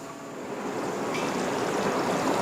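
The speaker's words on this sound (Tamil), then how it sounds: "பாருங்கள் நல்லா கொதித்து வெந்துட்டுருக்கு" An anchovy fish curry simmers in a covered pot, giving a steady close bubbling and hissing boil that swells slightly louder and fills the whole clip.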